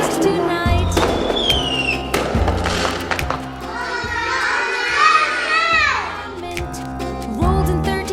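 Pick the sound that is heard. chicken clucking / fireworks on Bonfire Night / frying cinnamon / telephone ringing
fireworks on Bonfire Night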